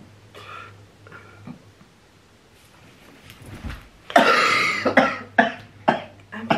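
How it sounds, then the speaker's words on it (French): A person indoors coughs repeatedly: a soft throat-clearing early on, then a burst of loud, close, harsh coughs in quick uneven succession near the end. "T'es chiant à tousser hein."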